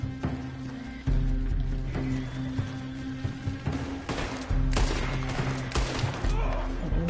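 Rapid gunfire from a shootout at a barn and house in Red Dead Redemption 2, with repeated loud shots and bursts over a low rumbling background, while a voice speaks at times.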